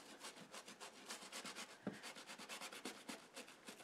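A brush scrubs hard across chenille fabric in quick, steady back-and-forth strokes, giving a close, dry rasping rhythm with no voices.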